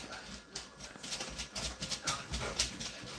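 Dogs indoors whimper and stir in short, uneven bursts, reacting to something outside, with faint scuffling between the whines.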